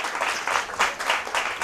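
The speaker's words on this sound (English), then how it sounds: "Round of applause for Leon" Audience at a school math championship gives a short, moderately loud burst of applause for a student from Leon Hess Comprehensive School, dense clapping with no speech.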